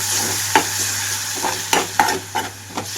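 Chopped tomato and a tablespoon of yogurt sizzling in a frying pan for egg millet biryani, with a constant low fry hiss and several distinct scraping stirs of a spoon at irregular intervals.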